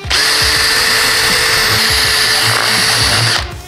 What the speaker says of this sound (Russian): Попробуем с дрелью.